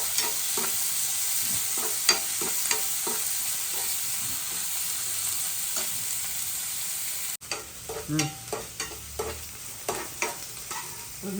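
Onions sizzling in hot oil in a pan for egg bhurji, a steady close frying hiss with scattered crackles and stirring scrapes, dropping quieter partway through, no voices.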